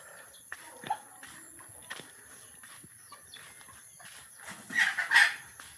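Chickens clucking on a farm, soft scattered calls over a quiet background, with a louder cluster of squawks near the end.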